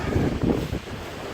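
Steady wind buffeting the microphone on the deck of the ocean liner Queen Mary 2, with a low, surging wash of waves beneath, a couple of stronger gusts early on, no voices.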